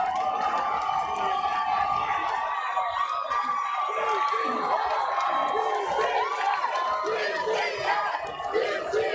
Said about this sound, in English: The crowd in an uproar.